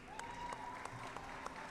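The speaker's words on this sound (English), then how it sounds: "Clap it up for the fellas." An audience claps for the Phoenix Suns rookies in a short, faint round of scattered applause, with a few sharper individual claps and a thin whistle-like tone underneath.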